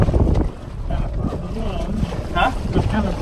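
A Nep'Toon Micro Tug 9 boat pushes through waves on Geneva Lake, with water sloshing and churning against the hull under steady wind buffeting the microphone, and someone talking over it.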